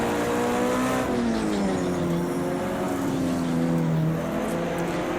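A race car in Project CARS 2, a Pavey Longhood S modded entry, drones loudly and continuously, its engine note rising and dipping through gear changes with tyre noise underneath, close and steady.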